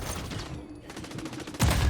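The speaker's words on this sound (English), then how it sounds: "And that nade takes me out." A grenade detonates in a Call of Duty-style shooter during a ranked Hardpoint match on Sub Base, a loud, sudden blast near the end that follows a steady stretch of scattered gunfire.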